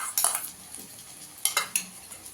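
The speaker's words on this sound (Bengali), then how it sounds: "টক দইটা দিয়েও ভালো করে কষিয়ে নেবো, গ্যাসের আঁচটাকে একদম কম করে" Metal spoon scraping and clinking against a pan while stirring fish curry with whipped yogurt on low gas, a few short sharp strokes with quiet gaps between them.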